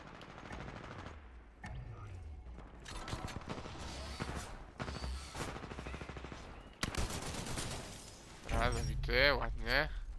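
Rifle fire in the Titanfall 2 alpha shooter, several bursts of rapid shots between quieter stretches, with someone talking over the gameplay and loud mechanical effects near the end.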